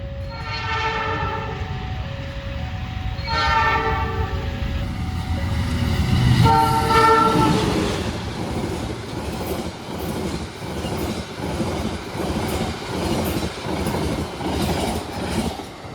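A passenger train near Bandung, Indonesia sounds its horn in long blasts as it approaches, then rolls past with steady rhythmic clickety-clack of wheels over rail joints, loud and close.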